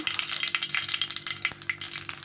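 Mustard seeds and cumin sizzle and crackle in hot oil, a close, steady frying hiss with sharp pops, tempering for a cabbage stir-fry, no voices.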